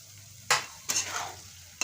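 Beetroot pickle with five-spice powder, pickle masala, sugar and salt is stirred in a pan, with three quick, separate scraping strokes over a faint background sizzle.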